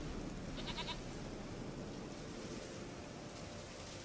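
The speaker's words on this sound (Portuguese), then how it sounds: "Aqui, cabra." A goat in The Witcher 3 lets out one short, faint bleat early on, nearly lost in a steady wash of wind-like ambient noise.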